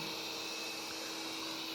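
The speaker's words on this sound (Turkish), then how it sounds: "Robot süpürge aynı yerde dönüp duruyor." Xiaomi Vacuum Mop Pro 2 robot vacuum running with a steady, close whirring hum and a constant high-pitched motor whine, heard on its own with no talking.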